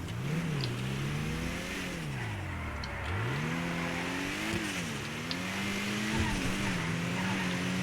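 A Zion Classic sports car, modeled on a BMW M6, accelerating in GTA 5 Online, its engine revving loud and continuous with rising and falling pitch through several gear changes.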